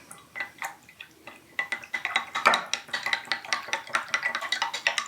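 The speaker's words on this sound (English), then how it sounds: "And we're gonna stir this up." Hand sanitizer of alcohol, vegetable glycerin and tea tree oil stirred in a container, giving soft, quick, rhythmic scraping and clinking that grows steadier, with no voices.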